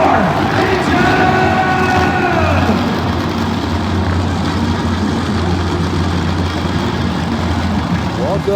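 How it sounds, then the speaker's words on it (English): Monster truck engines rumble loudly at an arena show, a low heavy drone with rising revving at the start, steady and continuous under crowd and announcer noise. "Start your engine!"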